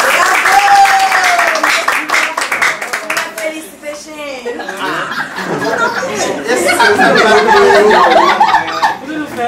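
Applause and cheering from a crowd at a final party honoring actors, with clapping, chatter and light laughter building over several seconds while voices talk throughout.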